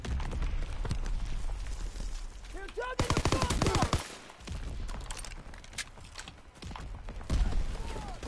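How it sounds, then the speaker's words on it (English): Bursts of strafing-run gunfire in Call of Duty WW2, loud rapid rattling volleys that roll on through the whole stretch with a brief lull near the middle, dense and close over game noise. "Strafing run inbound."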